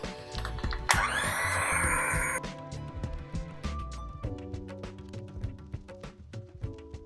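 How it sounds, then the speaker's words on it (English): An electric blender beats butter and sugar for cake batter in a loud, whirring burst of about a second and a half, followed by lighter clinks and scraping over soft background music. "I'll be using my blender to blend this butter and sugar until it becomes pale and fluffy"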